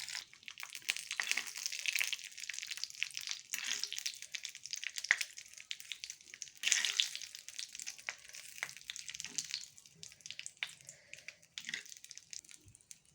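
Curry leaves drop into hot tempering oil with dried chillies for a raw tamarind chutney, crackling and spitting in quick irregular pops over a light sizzle, close and fairly quiet.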